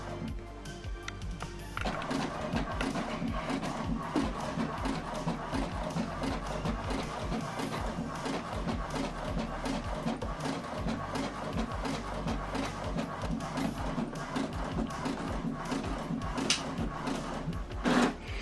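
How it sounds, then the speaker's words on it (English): A printer feeds and prints the second page of a double-sided document, a quiet, steady mechanical whir with rapid ticking and clicking that continues throughout and ends with a soft clunk. "now the second page is printing"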